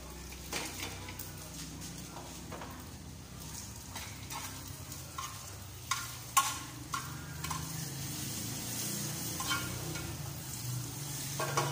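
Laing, taro leaves, being stirred and mixed in a sizzling pan, with a constant frying hiss and soft scraping strokes, plus a few sharper clinks along the way.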